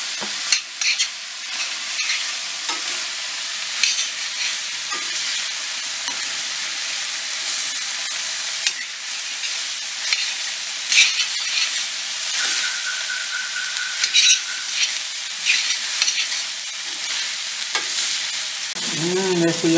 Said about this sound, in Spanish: Ya se empieza a citronar la cebolla